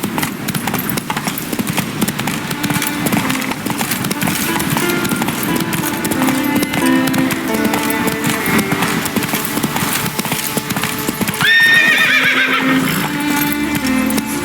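Galloping hooves of Roach, the horse in The Witcher 3: Wild Hunt, drumming steadily under loud orchestral game music, with a sharp neigh rising near the end.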